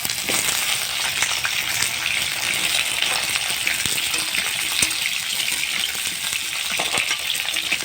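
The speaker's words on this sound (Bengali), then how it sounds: "আলুটাকে একটু ভেজে নিই" Potatoes fry in a pan with a loud, constant sizzle and crackle, with occasional stirring clicks and no voices.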